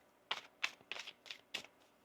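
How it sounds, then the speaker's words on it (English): Tarot cards are shuffled in five quick, close, crisp riffles spaced about a third of a second apart, soft and alone against a quiet background. "One more shuffle."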